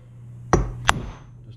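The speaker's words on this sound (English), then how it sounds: "I'm just going to take a hammer, that's what I got laying around, cheap hammer, and I'll try to send some vibrations into that crankshaft." A cheap hammer strikes the flywheel nut on a chainsaw crankshaft twice in sharp, ringing metallic taps about a third of a second apart, close by over a low steady hum.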